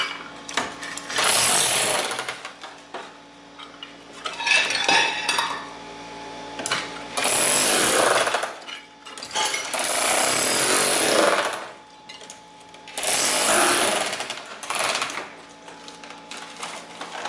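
A hammer drill chips mortar off steel in loud rattling bursts of a few seconds each, separated by brief quieter gaps, close and harsh throughout.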